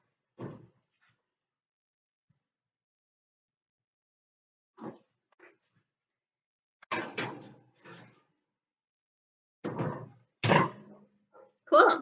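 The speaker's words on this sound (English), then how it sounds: "let me scoot it over so I can open the oven" A home kitchen oven door is handled in a few separate clunks and thumps between quiet gaps, a couple of knocks followed by louder bangs of the door and rack, close by.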